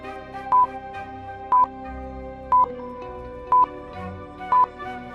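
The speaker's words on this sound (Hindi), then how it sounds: "मेहुल फोन नंबर के बटन प्रेस करता है और लैब के अंदर चले जाता है।" Five evenly spaced keypad beeps, one about every second, sound as buttons are pressed to unlock a lab door, each short tone standing clearly above a soft steady musical bed.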